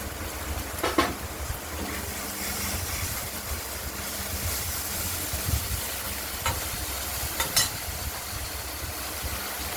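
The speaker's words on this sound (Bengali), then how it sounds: "নাড়া দিতে হবে তো বারবার" Okra is being stirred in a frying pan, and a steady sizzle runs throughout. A few scraping, clinking strokes of the spoon against the pan sound close and moderately loud, with no talking.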